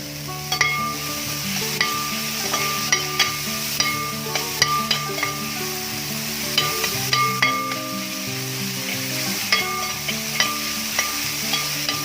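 Onion and chopped tomato sautéing in a pan for Kerala-style chicken macaroni, the spatula clinking and scraping in a regular rhythm over a constant sizzle, with gentle background music.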